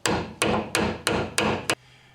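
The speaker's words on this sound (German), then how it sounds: "War dezente Schläge mit dem Hammer." Six sharp hammer blows at an even rhythm while fitting a wishbone on a Porsche 944 S2, each a loud metallic strike with a short ringing decay, then quiet.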